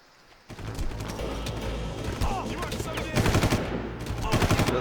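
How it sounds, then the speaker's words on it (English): Bursts of automatic gunfire from enemies hidden in bushes in the video game Far Cry, loud rapid volleys that start abruptly after a brief lull and continue in dense, overlapping rattles with sharp cracks. "Those bushes are firing at me, Dave."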